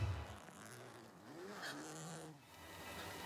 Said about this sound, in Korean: 바깥쪽 지퍼가 다 열리고 텐트 안쪽 지퍼마저 조금씩 열리기 시작했어요.